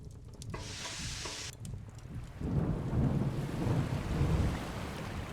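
Thunderstorm in a video game: a rushing hiss of heavy rain with a low rumble of thunder building underneath, swelling louder in the second half, no voices.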